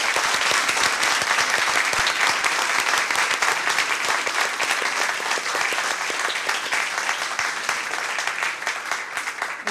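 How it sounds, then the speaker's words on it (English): An audience at a school board meeting applauds the board members with dense, sustained clapping that fills the room, steady and loud for about ten seconds. "Let's give all our board members a round of applause."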